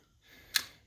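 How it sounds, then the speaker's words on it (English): A single sharp tick from the clicker of a first-generation Penn No 500 Jigmaster fishing reel, one brief close click in an otherwise quiet moment. "we're gonna make sure that clicker's still working, which it sounds pretty strong"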